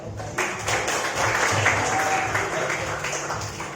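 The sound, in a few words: classroom applause for a student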